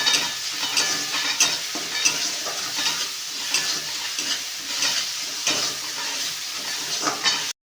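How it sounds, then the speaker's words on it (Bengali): Spice paste sizzles in oil in a pan as it is stirred with salt, turmeric and sugar for a Bengali pointed gourd dish, with steady close frying hiss and periodic scraping strokes of a spoon against the pan. "ব্যাস, মশলাটা কষানো কমপ্লিট।"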